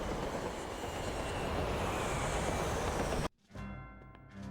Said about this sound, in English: シカゴ発大陸横断超特急